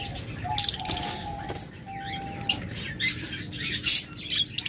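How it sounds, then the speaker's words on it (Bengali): Green opaline Fischer's lovebirds give short, bright chirps and squawks in scattered bursts, some close and loud, over a steady low background hum. "top quality green fisher opaline"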